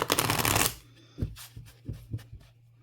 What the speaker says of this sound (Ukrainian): Знов тасую колоду